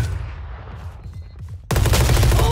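Gunfire in the video game Valorant: scattered lighter shots over a low rumble, then a sudden loud burst of sustained rapid automatic fire that fills the final second.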